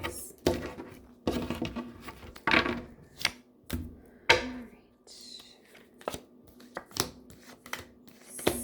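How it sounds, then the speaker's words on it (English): Tarot cards are cut and handled on a table in a series of sharp, irregular taps and flicks with quiet pauses between them, close and crisp, without anyone speaking. "I'm going to cut the deck"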